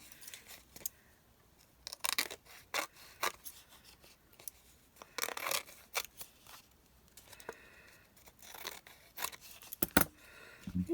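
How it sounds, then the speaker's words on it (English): Scissors snipping through napkin fabric in short irregular bursts of cuts separated by pauses and light handling rustle, close and fairly quiet with no voices. "we go ahead and trim this one up"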